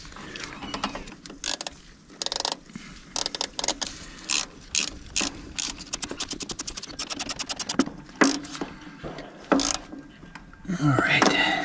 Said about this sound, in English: Let's see if we can get this bottom bolt.